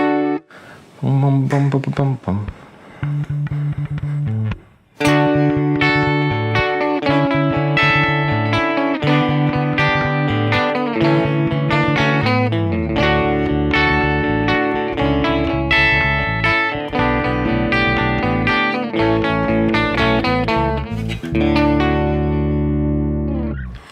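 Electric guitar through a Stratocaster-type setup plays a brief clean figure, then bursts into loud, sustained overdriven chords and riffs with rich harmonics and reverb that carry on steadily to the end.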